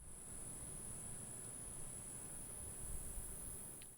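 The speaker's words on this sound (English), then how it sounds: "You hear the different crickets and the sounds of nature." Crickets chirping outdoors in a quiet nature setting, a steady, faint high-pitched trill running continuously over a low hiss of ambient background, with no voices.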